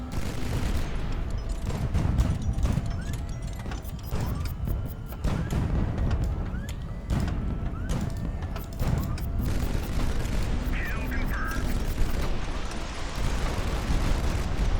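Rapid gunfire and rocket blasts crackle through a ship battle in the video game Highfleet, dense repeated bangs and booms over rumbling noise, loud and continuous.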